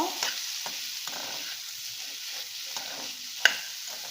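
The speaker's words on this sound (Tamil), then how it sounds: "இதை அப்படியே சிம்மில் வச்சு ஒரு 10-15 நிமிஷம் நம்ம நல்லா வதக்க போகிறோம்." Chopped potatoes that were soaked in salted water sauté in a pan over low heat for a home lunch dish, giving a steady soft sizzle with intermittent stirring scrapes and a sharper clack near the end.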